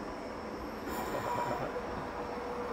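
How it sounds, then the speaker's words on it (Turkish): A small local train pulls into a rural Japanese station, its steady broadband rumble and faint wheel squeal filling the whole stretch at close range, with no voices. "Bizim tren geldi. Küçücük."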